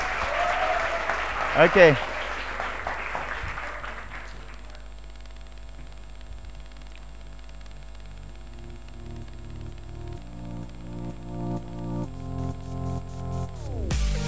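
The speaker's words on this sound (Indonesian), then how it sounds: "Sekali lagi beri aplaus yang meriah dong buat teman-teman." Audience applause breaks out at a youth showcase at MAN Insan Cendekia OKI school, a dense clapping crowd that fades within about four seconds. A short voice, then quiet electronic tones and beeps, follows.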